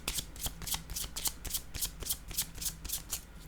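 Playing cards being shuffled and handled at close range, a fast run of crisp, riffling slaps and flicks repeating steadily about three times a second, with no voices.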